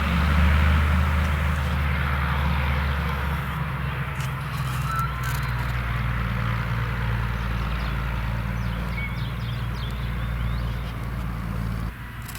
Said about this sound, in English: the tranquility is going to be spoiled a bit by the trucks and graders over there redoing the driveway